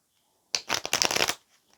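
A quick riffle of tarot cards being shuffled, a short flurry of papery flicks lasting under a second, close and clear against silence.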